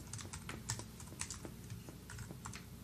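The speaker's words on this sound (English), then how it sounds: "And here I'm going to type in my email address." Rapid keystrokes on a computer keyboard, typing an email address into a text box, make a steady run of close, light clicks with no voices.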